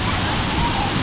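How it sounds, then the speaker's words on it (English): Waterfall in Bali with a modest flow, a continuous broadband rush of falling water that stays steady and close, with no other sounds standing out. "not the best waterfall, but hey, with some flow, gets credit for that."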